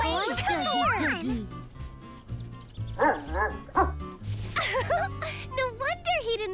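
A cartoon dog in the animated series Strawberry Shortcake's Berry Bitty Adventures barks and yips in quick, excited bursts, mixed with high-pitched character voices.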